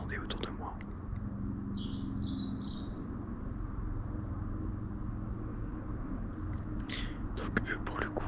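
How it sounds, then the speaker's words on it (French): Many small birds chirp in the woods, with thin, high twitters and a short trill scattered over a steady outdoor hush, fairly faint and distant, while someone speaks quietly nearby. "Après il y a aussi énormément de petits oiseaux,"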